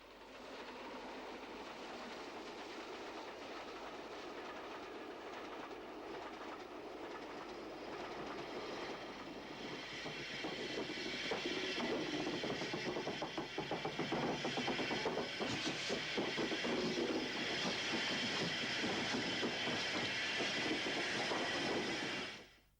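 A railway locomotive leaves the engine shed, starting with a steady mechanical rumble that grows louder and turns into a rhythmic clanking clatter as it pulls away, then cuts off abruptly.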